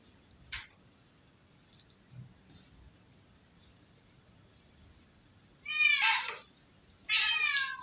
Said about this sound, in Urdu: وہ بلی کی آواز ہے